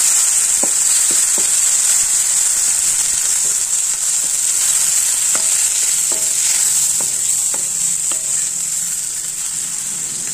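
Gongura (sorrel) leaves sautéing in a hot pan, a steady bright sizzle running throughout with scattered soft clicks and scrapes of a spatula stirring, close and fairly loud, no talking.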